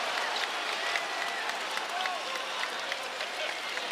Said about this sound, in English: Crowd trying to make a big difference here at the Watsco Center.